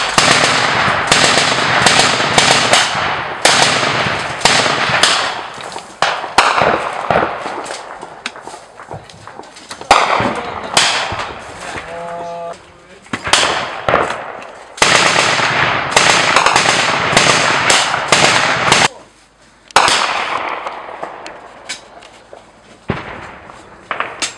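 Sharp, loud gunshots crack out in quick repeated bursts and single reports, with sudden silences between volleys outdoors in combat on the front line at Pisky.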